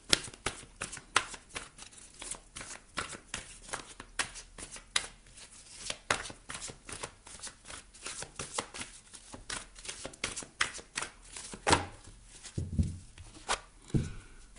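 Tarot cards being shuffled by hand, a dense run of crisp riffling flicks and soft slaps lasting throughout, close and fairly quiet, with a few duller taps near the end and no talking.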